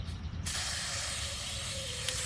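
A spray can hisses in one continuous, steady blast close by, starting abruptly and holding at an even level without pause.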